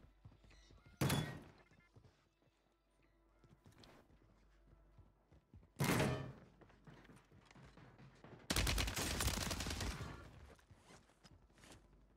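Three loud, sharp gunshot bursts in Warzone 3, a battle royale shooter, the last one longer and sustained, spaced apart over a steady background of game ambience and movement.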